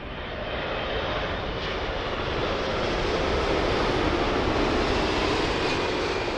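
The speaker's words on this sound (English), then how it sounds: "So this is the 787-9 Dreamliner of United in from Los Angeles, City of Angels." A United Boeing 787-9 Dreamliner in from Los Angeles lands on runway 27L at Heathrow, its jet engines roaring loud and close in a broad, steady rumble that swells slightly as it passes, with no voices.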